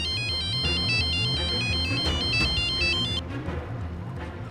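A phone rings on an outgoing call, a repeating electronic warbling tone pattern playing close and clearly for about three seconds before cutting off into quieter background noise.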